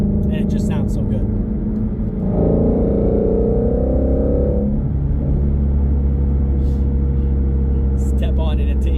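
A Ford Mustang Shelby GT350 engine accelerates from inside the car, rising to a strong rumbling surge around the middle and then settling back to a steady loud drone.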